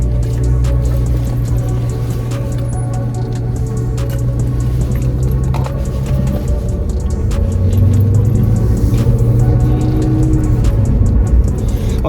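A 2022 Honda Grom motorcycle engine runs steadily outdoors on a 20-degree day, giving a continuous low, throbbing rumble with a slight rise in pitch partway through, heard close and loud with no talking.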